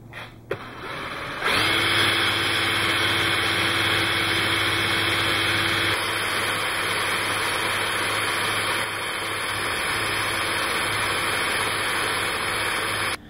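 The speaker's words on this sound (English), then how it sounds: "you can actually run one motor with the induction rotor. This one has the magnetic setup. You can actually run one off of the other." A homemade induction motor alternator setup with a neodymium-magnet rotor, one motor driving another, runs with a steady loud hum and whine that starts after a brief click and holds constant throughout.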